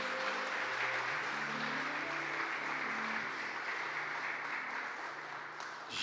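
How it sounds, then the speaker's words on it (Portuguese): A church congregation gives a warm round of applause, continuous clapping from many people in a hall, steady and moderately loud, with a low sustained organ or keyboard tone underneath that eases off toward the end. "Pastor Edson, quero que você receba esse homem com uma salva de palmas"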